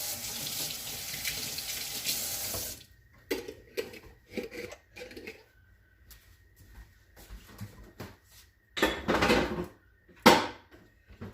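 Tap water runs steadily while a pot is rinsed out in a home kitchen, the flow stopping and restarting with clattering bursts of pot and lid sounds, close and fairly loud.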